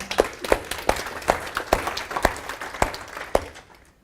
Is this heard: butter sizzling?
no